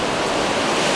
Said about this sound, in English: We are sailing through about 10 to 12 foot waves again right now.